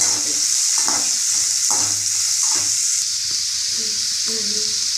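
Continuous sizzling of onions sautéing in a pan, with intermittent scraping and stirring sounds close by.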